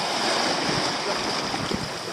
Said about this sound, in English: we had a big gust of wind then, which pretty much took everything